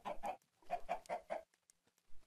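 Minecraft chicken clucking in a burst of short, close clucks in two clusters, followed by quieter scattered sounds and one more brief cluck at the end, with no talking.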